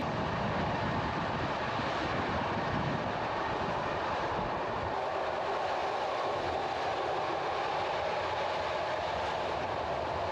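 A train from Sofia to Bucharest rumbling steadily along the rails, heard from inside, with a constant broad roar and faint rhythmic clatter.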